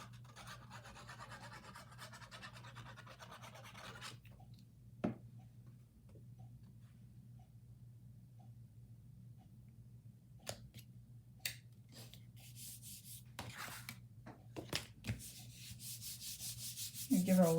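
Hand rubbing down a folded cardstock greeting card, faint dry sliding and scraping strokes with scattered light taps and clicks, quiet and close, growing busier toward the end.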